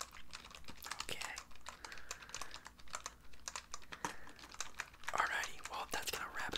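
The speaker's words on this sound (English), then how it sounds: "I'm just gonna be doing some last minute typing, just filling out the rest of this form." Steady computer keyboard typing, rapid close clicks in irregular bursts at soft volume, while someone whispers quietly over the top in an ASMR interview roleplay.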